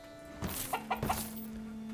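A few short chicken clucks come through in quick succession over a steady electronic hum, fairly close and moderately loud.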